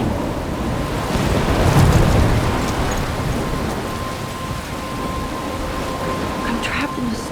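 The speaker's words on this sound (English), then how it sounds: "I'm trapped in the storm?" A thunderstorm rages in the video game Life is Strange, a rolling thunder rumble swelling and fading over heavy rain and gusting wind, with a voice speaking over it.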